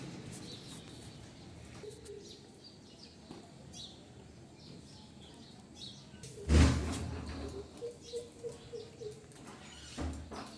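Soft bird calls and cooing around a mango tree over a quiet outdoor background, with one loud close thump partway through followed by a run of brief calls.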